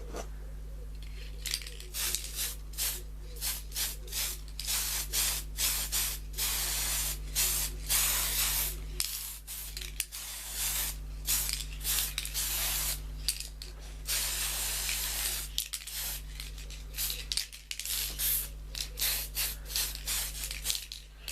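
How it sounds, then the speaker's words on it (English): Bursts of aerosol clear coat hiss onto a model of the Enterprise NX-01 refit starship, long close sprays broken by short pauses, over a low steady hum and with no speech. "So let's just quickly give this a clear coat."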